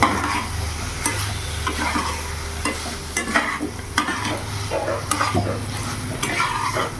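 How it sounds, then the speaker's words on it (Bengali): Fried pointed gourd is stirred into a frying spice paste, with a continuous sizzle beneath repeated scraping and knocking spoon strokes at an uneven rhythm, close and loud. "এবার ভালো করে মশলার সাথে আমি মিশিয়ে নেব"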